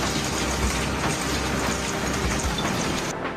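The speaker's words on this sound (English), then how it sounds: "Torrential rain accompanied by severe lightning activity" Torrential rain pours down during flooding in Tokyo amid severe lightning, a dense, steady roar of rainfall that holds evenly loud throughout with no voices.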